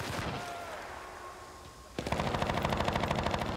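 Machine gun fire in the war shooter game Battlefield: Bad Company, a rapid, steady stream of loud shots that bursts in near the middle and keeps rattling to the end, preceded by quieter ambient battle noise.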